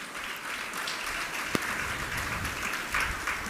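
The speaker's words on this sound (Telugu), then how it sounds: "తండ్రి ప్రేమకై ఒకసారి చప్పట్లు కొట్టి దేవుని స్తుతి." A church congregation claps together in a steady, continuous burst, moderately loud, with one sharp louder clap standing out partway through.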